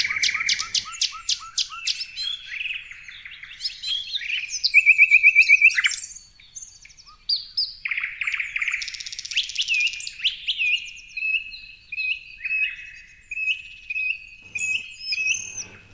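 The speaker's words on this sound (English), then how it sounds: "The bird song reaches a crescendo, filling the ear with an eternal chorus." Several birds sing and chirp in a forest at sunset, with rapid repeated high tweets, trills and calls overlapping continuously, fairly close and bright, with no talking.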